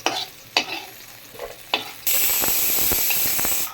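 Mutton curry cooking in a pan in a Madurai-style kitchen: a few scraping stirs of a spoon, then a sudden loud, continuous sizzle and hiss close by.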